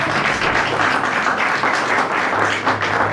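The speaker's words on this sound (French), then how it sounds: "j'aimerais que l'Église puisse acclamer pour eux" A church congregation applauds in a continuous, even wash of clapping that fills the room from start to finish.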